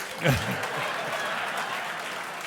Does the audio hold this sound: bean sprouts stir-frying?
no